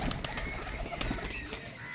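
Giribaz pigeons from Rajshahi, kept for sale, coo softly in a short steady bout, with faint rustling and possible wing flaps close by and no voices.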